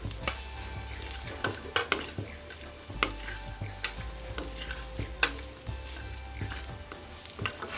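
Grated coconut dry-roasts in a hot pan with no oil, making a continuous near sizzle overlaid by frequent scraping strokes of a spatula and occasional sharp clicks against the pan.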